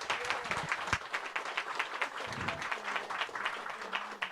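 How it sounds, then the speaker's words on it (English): An audience claps for a guest author at a book talk, a dense, steady round of applause lasting the whole stretch, fairly close and even in loudness, with no talking over it. "Let's give our guest Ariel a round of applause."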